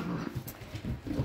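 Excited white water-and-mud dogs whine before dinner, a few short, close, moderately loud whimpers over low scuffling movement, with no talking.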